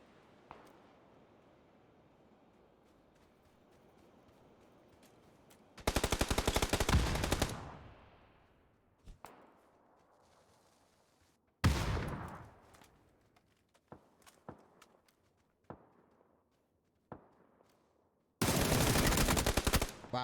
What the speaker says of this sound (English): great shots coming out of the M4 of Wargenetics